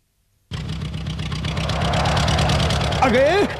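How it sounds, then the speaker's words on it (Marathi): A new farm tractor's engine idles close by with a steady low rumble and regular throbbing pulses that build slightly in loudness, and a short wavering tonal sound rises over it near the end. "अगे शंकरावानी बघ, नवा ट्रॅक्टर घेतलाय"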